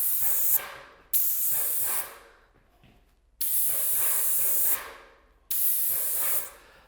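An airless paint sprayer fitted with a 311 tip fires four loud, close bursts of sharp hiss, each cutting off abruptly, with quiet gaps between and no talk.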